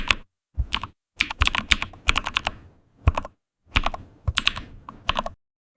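Fast, rhythmic clacking of keys on a glowing mechanical keyboard in an AI-generated ASMR scene, coming in several quick bursts separated by brief pauses, close and crisp with no voices.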